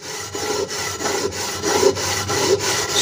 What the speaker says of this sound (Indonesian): Nah, kita gosok pinggirannya dulu seperti ini